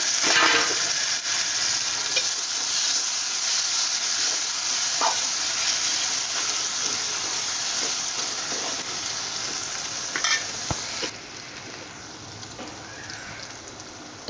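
Chopped tomato sizzling and frying in a pan for dry Bombay duck chutney, a steady close hiss with a few sharp crackles and stirring scrapes, no one speaking.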